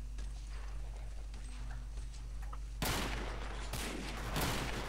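Gunfire from above in the Hidden & Dangerous 2 game, a broadband burst of shots breaking in over a steady low hum, with a second volley moments later, fairly loud.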